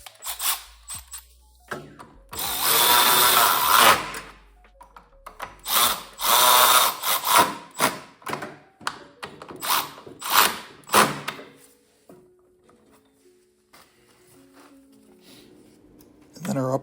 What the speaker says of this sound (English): we'll speed the process up with a Milwaukee ratchet